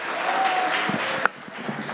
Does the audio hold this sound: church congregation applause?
yes